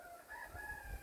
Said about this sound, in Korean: 앞에서는 닭이 울고 뒤에서는 꿩이 울고